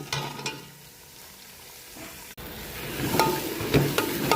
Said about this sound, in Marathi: आता फोडणी मारायचं चालू आहे आपल्या पांढऱ्या रश्याची